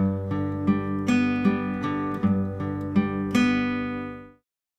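Guitar arpeggio from the intro of a song, about half a bar of picked notes in a steady rhythm ringing close and clear, then cut off into silence.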